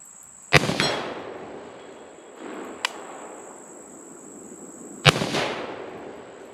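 Two sharp, loud rifle shots from a Zastava ZPAP85, each followed by a ringing metallic hit on an 8-inch steel plate and a fading echo, with a faint extra ping between them.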